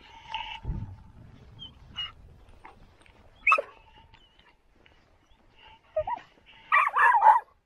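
Dogs bark and yip in short scattered bursts while herding cows outdoors in rural Patagonia, Chile, with a louder cluster of barks near the end.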